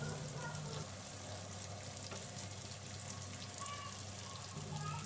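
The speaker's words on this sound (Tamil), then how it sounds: "ஒரு கொத்து கருவேப்பிலை சேர்த்து இதை நல்லா வதக்கிக்கலாம்." Ginger, shallots and curry leaves sauté in a pan with steady sizzling and soft stirring noises, continuous and fairly quiet, with no voices.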